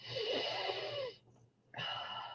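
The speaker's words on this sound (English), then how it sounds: "And I'll sniff it." Two close, breathy sniffs at a leather bookmark, each a rushing inhale through the nose separated by a brief pause of near silence.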